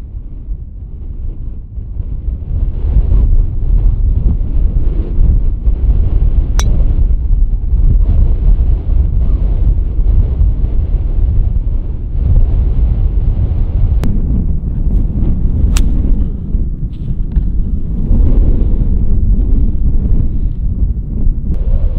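Strong wind of about 45 mph on a golf course buffets the microphone in a steady, heavy low rumble for a long stretch, with no voices heard.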